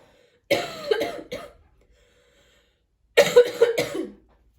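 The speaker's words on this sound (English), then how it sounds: "And now I have to cough." Two separate bursts of harsh coughing, close and loud, with a quiet pause between them.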